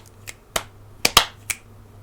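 Crisp finger snaps, five in about two seconds at an uneven rhythm, close and clear over a faint steady hum.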